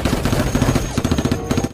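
Rapid bursts of pistol gunfire in a dinosaur video game, loud and close, firing in quick repeated volleys over a busy backdrop of game sound.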